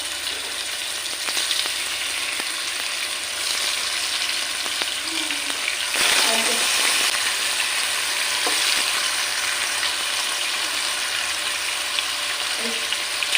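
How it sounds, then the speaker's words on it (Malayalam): A second batch of chicken pieces fries in hot oil in a pan for a Kuttanad-style chicken curry, a steady close crackling sizzle with occasional stirring clinks and scrapes. "ചിക്കനും കൂടെ ഇട്ട് വറുത്തെടുക്കാം."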